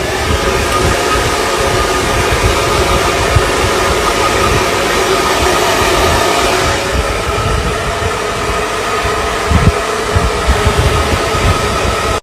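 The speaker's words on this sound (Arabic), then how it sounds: "مجرد بس ان انا نشفته بالاستشوار" A hair dryer drying hair runs as a steady, loud, broadband whoosh with a low rumble underneath, continuous for the whole stretch with no talking.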